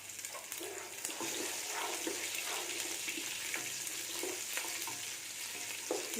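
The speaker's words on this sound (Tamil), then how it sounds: "சின்ன வெங்காயம் கட் பண்ணி வச்சுருக்கேன் ஒரு நூறு கிராம் சின்ன வெங்காயம் இதான் போட்டுக்கணும்" Chopped small onions (shallots) fry in oil for mutton chops gravy, giving a continuous sizzling crackle with scattered pops and faint stirring clatter.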